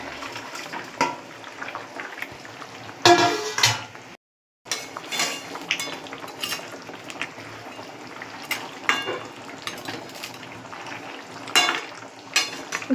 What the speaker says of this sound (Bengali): বন্ধুরা, আমার ঝোলটা ফুটে গেছে, এবার এর মধ্যে আমি ভাজা মাছ আর বেগুনটা আস্তে করে দিয়ে দেবো